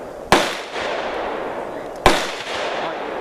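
Two loud, sharp gunshots ring out at an outdoor shooting range in Elk Neck State Forest, spaced under two seconds apart, each followed by a short echoing decay, with no talk.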